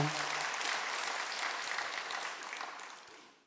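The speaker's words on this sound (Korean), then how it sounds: "하나님께 영광의 박수 올려드립니다" Congregation applauding in a church after a choir's Chuseok thanksgiving Sunday hymn, a dense, steady wash of many hands that fades slightly toward the end.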